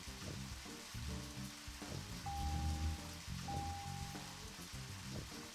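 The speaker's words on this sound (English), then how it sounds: "Oh, man. It's raining." Rain falls steadily in the video game Deadly Premonition, a soft, continuous hiss of drops kept faint beneath sustained tonal game sounds.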